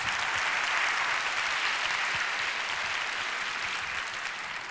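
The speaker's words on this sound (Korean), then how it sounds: "저를 큰 박수로 환영해 주시니까" An audience at a church prayer gathering applauds warmly to welcome a speaker. The clapping is a thick, continuous wash of many hands at steady volume that eases slightly at the end.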